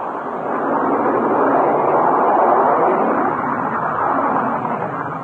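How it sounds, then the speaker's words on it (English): A B-52 bomber roaring in a steady broadband rumble that swells during the first second, holds loud and close, then eases slightly, with no voices over it. "That was the roar of the B-52"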